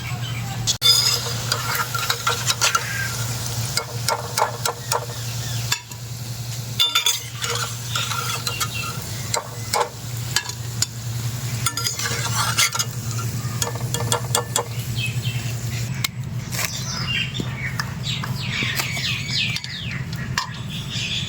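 Palm fruit fritters (tal bora) fry in hot oil with a steady, close, continuous sizzle, broken now and then by stirring scrapes and clinks of a utensil against the pan.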